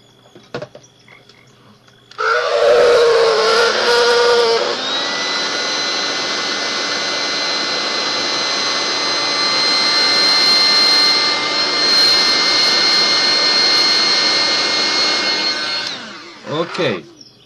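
Electric craft dryer blowing to dry a pin, a loud steady whirring hum that starts abruptly after a few quiet seconds and cuts off near the end.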